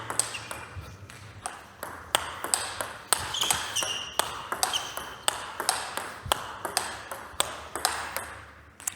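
Table tennis ball struck repeatedly with a Butterfly Viscaria blade, sharp ringing pings in a steady rally rhythm about once a second, close and clear, with faint background noise.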